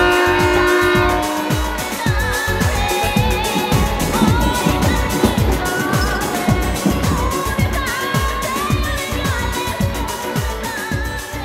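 Passenger train departing on the way to Varanasi, a loud sustained horn over rhythmic clattering wheels and busy station noise, dense and close throughout.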